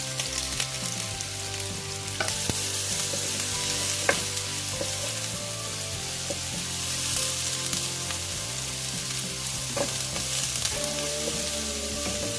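Chopped onion hits a hot pan and sizzles steadily, a dense crackling hiss with occasional clinks of a utensil stirring, close and continuous without talk.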